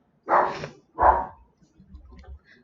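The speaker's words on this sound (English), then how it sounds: "Don't be barking!" A dog barks twice in quick succession at close range, loud sharp bursts, followed by softer low grumbling and faint movement.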